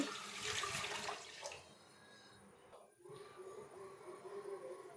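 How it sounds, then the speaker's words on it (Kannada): Water pours steadily into a pot for about a second and a half, then a quieter gurgling trickle continues with faint background noise. "ಒಂದು ಪಾತ್ರೆಗೆ ಒಂದು ಎರಡು ಮಗ್ಗಾಗುವಷ್ಟು ನೀರು ಹಾಕಿ"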